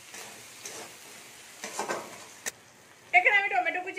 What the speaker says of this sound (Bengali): টমেটো কুচিটাকেও একটু নেড়ে নেবো।